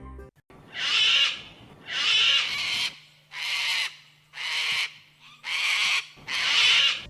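A series of six loud, harsh squawks from cockatoos, each lasting about a second, repeated in a steady rhythm close by.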